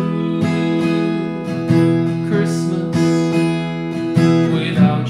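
An acoustic guitar strums the chords of a song in a steady down-and-up shuffle pattern, with clear, even strokes ringing close and full, and no voice.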